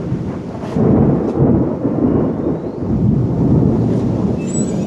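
Thunder rumbles continuously through steady rain during a storm at a house by a canal in Bang Khonthi, Samut Songkhram, Thailand, a loud, deep, broad roar that swells and dips across the clip with no voices.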